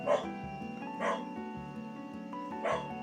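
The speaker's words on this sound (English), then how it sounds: "Apologies if you can hear the dog barking in the background." A dog barks three times at an uneven pace, somewhat distant, over a steady background hum.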